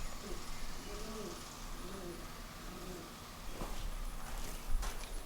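Pigeons or doves cooing in soft, repeated low calls inside a barn, fairly near, with some rustling and a few footstep-like knocks late on.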